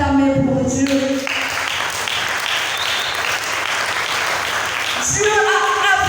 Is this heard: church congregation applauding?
yes